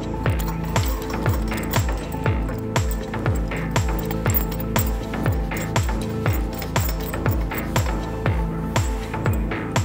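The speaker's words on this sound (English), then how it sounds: "We now fit all of the bolts again and tighten them" Bolts are refitted and tightened on a REMBE Q-Bic extinguishing barrier canister hung from a pulley: a close, steady run of sharp metallic clinks and short ratcheting sweeps repeating in quick rhythm.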